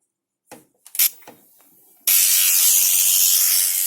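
A few clicks and clunks of handling come first, then a pump switches on and forces water through a hose, a sudden loud, close, steady rushing hiss that continues to the end.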